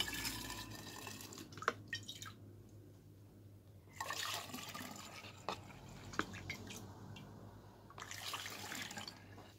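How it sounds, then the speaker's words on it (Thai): Mango juice poured into a glass kombucha fermentation bottle, heard as several bursts of running, splashing liquid separated by quieter pauses and small drips. "เดี๋ยวเราจะเทน้ำมะม่วงหาวมะนาวโหใส่ขวดหมักนะคะ"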